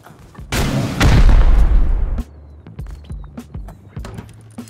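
Rocket explosion in the video game Rust: a loud, close boom with a roaring decay lasting over a second, followed by scattered sharp gunshot-like cracks and clattering.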